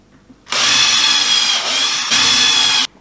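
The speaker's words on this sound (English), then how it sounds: "So this one I'm gonna pre-drill" A power drill whirs steadily into wood for about two seconds, pre-drilling for a terrarium stand, with a brief dip in the middle before it spins up again and stops.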